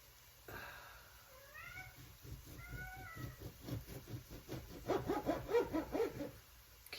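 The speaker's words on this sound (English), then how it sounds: "Kitty's talking." A cat meows in a home kitchen during cooking, giving several drawn-out, rising meows over soft scraping and cutting noises, then a quicker run of short, chirpy calls near the end.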